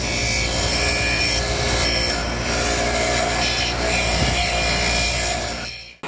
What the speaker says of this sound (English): with this running, we're gonna just clean it up on the wire wheel